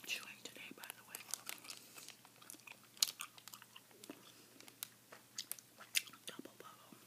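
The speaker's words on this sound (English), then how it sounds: "There's a bubble gum I'm chewing today," Someone chewing Double Bubble bubble gum close up, with a steady run of small wet smacks and crackly bites, under soft whispered talk.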